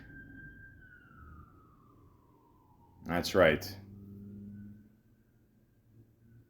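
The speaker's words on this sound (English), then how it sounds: "of course you're going to hear a siren go by." A siren wails and sweeps downward in pitch as it passes, fading out, followed by a short spoken remark and low traffic rumble.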